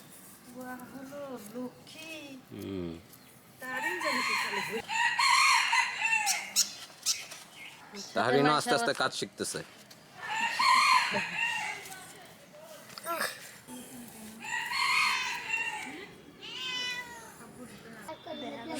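A rooster crows and hens cluck around a village farmyard at dusk while people talk over them, with a cat-like meow mixed into the animal noise.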